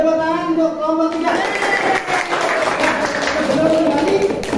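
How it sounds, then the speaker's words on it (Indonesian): A classroom of students applauds a presenting group, a steady wash of clapping that swells after a moment and carries on throughout, with voices mixed in. "Tepuk tangan untuk kelompok 3."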